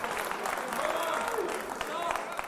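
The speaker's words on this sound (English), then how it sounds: "Can we get a round of applause here for the King of Violence?" An audience at a bare-knuckle fighting event applauding for fighter Mike Perry, quick clapping and crowd noise that sound somewhat distant and thin, with voices mixed in.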